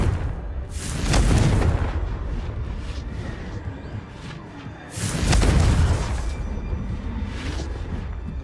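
Two booming blasts of the Confringo fire spell from the Hogwarts Legacy video game, each a loud broadband burst about four seconds apart, trailing off into a rumbling decay, with a faint voice briefly present.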